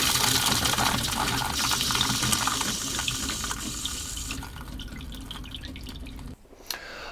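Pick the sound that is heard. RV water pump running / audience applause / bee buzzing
RV water pump running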